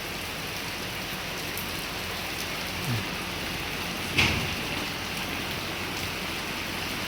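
Heavy rain pours steadily over Delhi on the day of the Dussehra festival, a dense continuous hiss with one brief sharper crack partway through and no voices.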